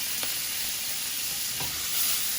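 Onions sizzle gently in butter in a pan over low heat, a soft, even hiss with a couple of faint stirring touches.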